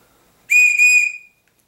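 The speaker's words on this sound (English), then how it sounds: "you have a built-in whistle" A single shrill blast from a whistle built into a Tool Logic Survival I survival card, loud and close, with a brief break in the middle before it tails off, alone against silence.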